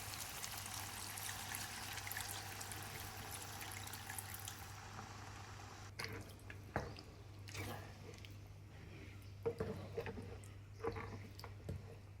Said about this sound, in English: pour in 2 cups of water